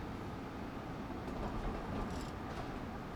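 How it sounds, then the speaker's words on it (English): Metro-North train in Train Sim World 6 rolling over points on the Northeast Corridor, a steady loud rumble with faint clatter from the wheels crossing the track joints. "See, why can we now hear the points, yet before we couldn't?"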